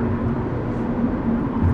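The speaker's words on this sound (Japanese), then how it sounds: "地面と近いからもっと走行音うるさいのかなと思いまし" Steady cabin road noise inside a new Subaru BRZ S with six-speed manual cruising on a highway: a continuous broadband rumble with a faint tonal hum, even and unbroken, with no talking.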